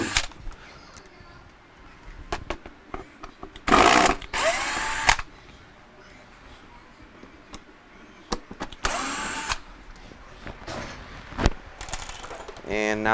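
A power drill backs out the screws on a Samsung refrigerator panel, the fridge not cooling in its fresh food section: several loud, close whirring bursts of a second or so, separated by quieter handling noise.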